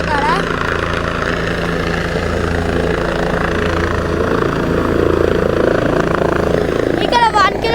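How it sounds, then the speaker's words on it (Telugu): A helicopter comes in to land near Kedarnath on a rainy mountain trek, its rotor and engine roaring steadily and loudly up close throughout, with a voice talking over it. "ఇక్కడ అయితే హెలికాప్టర్ అయితే వచ్చింది చూడండి. ల్యాండ్ అవుతుంది"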